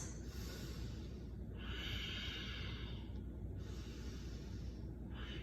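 Slow, deep breaths during a yoga breathing session, each long inhale and exhale faint and close-miked, with a soft hiss over a low background rumble.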